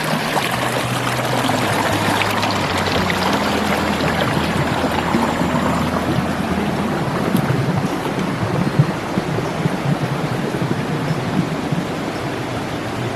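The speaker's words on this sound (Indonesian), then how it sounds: "Mendengar suara gemercik air ini udah kebayang kesegaran suasananya teman-teman." Water gurgles and flows steadily in a village stream in the rural countryside of southern Pekalongan, a continuous, close, broadband rush with no voices over it.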